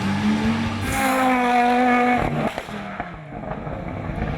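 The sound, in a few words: Audi Quattro S1 rally car driving on a rally stage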